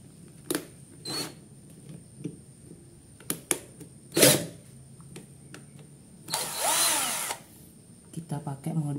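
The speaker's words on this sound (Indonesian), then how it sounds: "Kita akan coba bor tembok ya." A cordless drill set to drill mode bores into a wall in short separate bursts, the longest lasting about a second, with quiet handling and faint talk between them.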